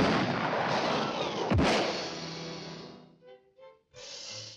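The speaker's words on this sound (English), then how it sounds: "The cannon comes back and hits the butler" A cartoon cannon fires with a deep booming blast and a sharp crack, followed by a long rumbling roar that fades into a few brief cartoon sound effects, heard alone and loud.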